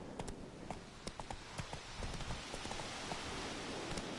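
Roach, the horse in The Witcher 3: Wild Hunt, gallops with faint, rapid hoofbeats over a soft, rain-like hiss.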